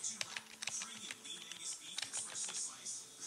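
Quick, light clicking of keys on a Microsoft Wireless Desktop 3000 keyboard, a fast irregular patter of taps heard close but faint, with a faint voice underneath.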